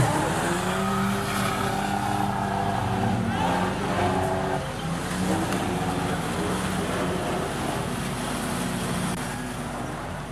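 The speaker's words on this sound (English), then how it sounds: "Race leader gets his victory lap." A Fender Benders race car takes its victory lap at Rockhampton Speedway, its engine roaring and shifting pitch as it circles, with crowd and track noise around it and some distant announcing.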